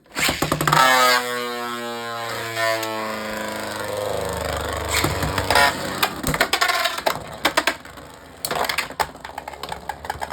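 Beyblade X spinning tops, Knight Shield against Drawn Sword, launched at an angle: a high whirring whine that slides downward, then a run of sharp plastic clashes and scraping collisions, loud and close, ending in scattered knocks.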